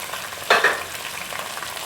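Chicken with ginger-garlic paste fries in a pan for biryani, giving a low steady sizzle with one brief scraping stir burst near the start.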